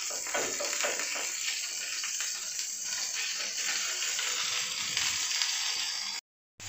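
Gola kababs frying in a hot pan give off a steady, dense sizzle with no talk over it, holding constant for about six seconds before cutting briefly to silence near the end.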